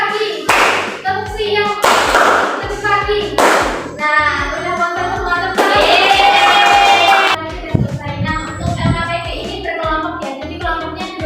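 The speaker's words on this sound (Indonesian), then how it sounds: "Ice breakingnya ini tepuk" A classroom group claps in bursts during an ice-breaking clap game led by a teacher, several sharp rounds of hand claps from a crowd of pupils, close and loud, with talking between the bursts.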